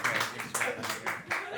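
Audience at a New York comedy roast battle show gives a short burst of clapping and applause, moderately loud, with voices mixed in.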